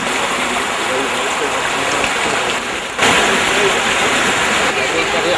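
Floodwater rushes loudly and steadily, a dense broadband roar with no breaks, close and unbroken throughout, with a slight surge in strength partway through.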